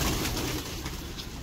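Pigeons coo softly against a dense, noisy outdoor background, a brief low murmuring call close by.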